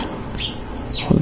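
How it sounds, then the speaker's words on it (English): A few faint bird chirps come through an open window over a steady background hiss, light and distant, with a soft low thump near the end. "If you hear sounds of nature, like birds and stuff"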